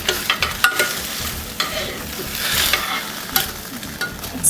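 Brussels sprouts sizzle steadily in a hot pan while being stirred, a constant frying hiss broken by scraping and knocking of the utensil against the pan, close and clear with no talking.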